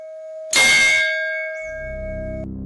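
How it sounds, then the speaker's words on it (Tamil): A single bright temple bell strike rings out with a long sustained tone that hangs in the air, followed by a low rumbling hum as it fades. "கோயில் மணி சத்தமா அடிக்க தொடங்குச்சு"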